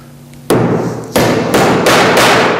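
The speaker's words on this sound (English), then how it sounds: "So now we're ready to start nailing it into place." A hammer drives a nail into a wooden theatre scenery flat, four sharp, loud knocks at an uneven pace, ringing close and alone with no voices.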